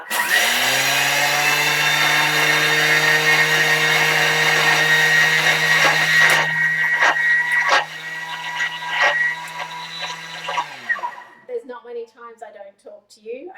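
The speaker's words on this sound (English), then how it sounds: "Let's mill it again, 10 seconds, speed 10." A Thermomix mills sugar into icing sugar at speed 10: a loud, steady, high-pitched motor roar runs for about eleven seconds, then cuts out, leaving a few light rattles and knocks.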